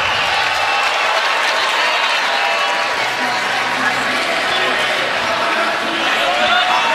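The crowd at Pauley Pavilion reacts to a called touch ending the set in a women's college volleyball match between USC and UCLA, a loud sustained mix of clapping and crowd noise, with voices over it.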